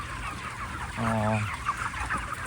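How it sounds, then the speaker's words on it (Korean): Broiler chickens clucking inside a poultry house, a close, clear run of clucks in the middle over a constant barn hum and general flock noise. "이렇게 이쁜 닭은 또 간만에 보는 것 같네요"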